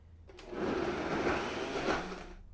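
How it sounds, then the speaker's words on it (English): A blender runs on its smoothie setting, churning a berry and kale smoothie with a steady whirring motor hum that swells after a brief start and holds fairly loud and close throughout. "this blender has a smoothie option, so I'll just put it on it and it just blends it for me"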